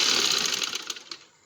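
A sewing machine stitches trouser fabric in a quick, rapid run of needle clatter, close and clear, slowing and stopping after about a second.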